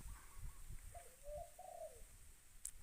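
Spotted dove cooing: a soft, low, hollow coo phrase of a few notes, fairly faint against a quiet outdoor hiss, with a brief higher chirp near the end.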